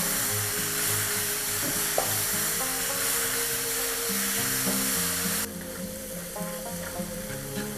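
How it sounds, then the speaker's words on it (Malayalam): Ground masala paste and spices stirred in a hot pan for chemmeen (shrimp) roast, a steady loud sizzle with scraping stirs throughout, dropping quieter near the end. "ഇതിലേക്ക് അരച്ചു വെച്ച മസാല ഇട്ട് നന്നായിട്ട് മിക്സ് ചെയ്യാം"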